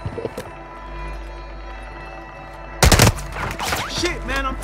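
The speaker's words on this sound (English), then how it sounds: "Shit, man, I'm taking fire!" Gunfire in a video game breaks out suddenly after a quiet, humming stretch, with a dense burst of sharp shots followed by scattered fire.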